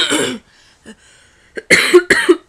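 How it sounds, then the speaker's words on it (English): A person coughs several times, a hoarse burst first, then a short pause and two harsh coughs close together, near and loud. "I apologize if I cough throughout this"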